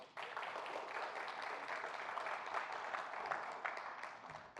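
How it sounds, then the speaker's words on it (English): An awards-ceremony audience applauds steadily for several seconds, a dense, even wash of clapping heard from a moderate distance without any voices on top. "Y'all want to clap for that, huh?"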